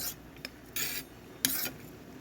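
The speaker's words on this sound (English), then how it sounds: "I have to stir it up because it settles down at the bottom, the thick part" A spoon stirs a cornstarch paste in a bowl, making a few short, close scraping strokes separated by brief pauses.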